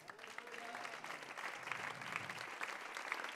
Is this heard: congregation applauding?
yes